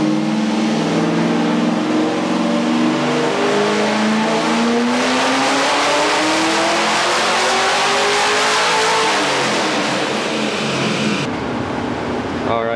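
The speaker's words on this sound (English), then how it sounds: "Darius is going to get a baseline reading on the Mustang, so we're going to see what he makes" A stock Ford Mustang engine run hard on a dynamometer, loud steady roar climbing in pitch as it revs up, then dropping away near the end, with voices faintly under the noise.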